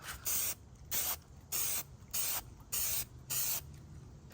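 Six short bursts of aerosol spray hiss in a steady rhythm, each lasting about a third of a second, close by with quiet gaps between.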